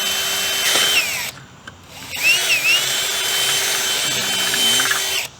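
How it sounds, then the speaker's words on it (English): A power drill whines loudly, stopping briefly and restarting, its pitch dipping and rising as the bit bites into plastic on a Lifan KP Mini motorcycle. "And you're just drilling in the plastic."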